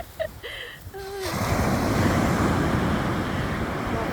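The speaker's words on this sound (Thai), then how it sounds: "มาฟังเสียงคลื่นจ้า" Ocean waves washing onto a white sand beach, a broad steady surf roar swelling in after a brief moment of a voice, then continuing alone at moderate loudness.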